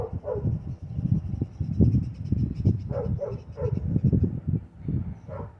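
Steady, continuous dog barking and yipping fills the clip, fairly close and loud, with rapid repeated barks and whimpers over a busy low background.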